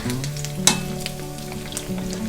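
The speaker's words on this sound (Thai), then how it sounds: "เราก็จะทอดด้วยไฟกลางมาเรื่อยๆนะคะ" Pork belly pieces deep-frying in oil over medium heat for a garlic-pepper dish, a steady close crackling sizzle with one sharp clink partway through and no talking.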